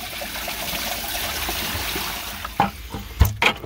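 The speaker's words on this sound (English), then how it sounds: "Fill up the bilge and put my plug in." Water runs and trickles into a Bayliner boat's bilge, a steady wash of flowing water with a few sharp splashes and knocks toward the end.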